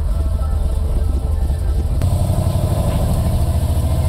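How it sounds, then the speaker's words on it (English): Deep, steady rumble of a 1963 Ford Galaxie's 427 FE V8 pulling through the gears, heard from inside the car as a continuous loud drone with a slight shift in tone midway. "I don't think we're gonna launch it, but I would like to go through the gears."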